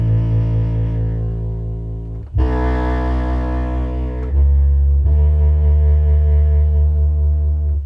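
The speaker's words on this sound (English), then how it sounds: "So I follow the chords that I played on the Rhodes piano on the bass," Deep sub bass following Rhodes piano chords in a lofi beat, loud sustained notes changing chord every couple of seconds with soft harmonic layers above, no voices.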